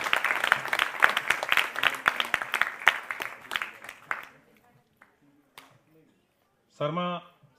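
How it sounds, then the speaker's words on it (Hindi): An audience at a CCRT Delhi event claps loudly to welcome director Sharad Sharma, a dense burst of applause for about four seconds that stops abruptly, followed by quiet and a brief voice. "शर्मा साहब का भी स्वागत करें जोरदार तालियों के साथ में।"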